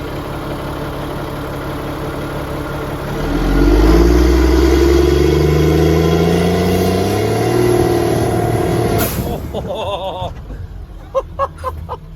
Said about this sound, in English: We're about to see if she can do a little burnout in the wet mud back here.